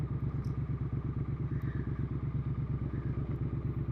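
A Triumph Street Twin motorcycle ridden through South London, its engine making a steady, loud, close throbbing drone with an even pulsing rhythm throughout, no talking.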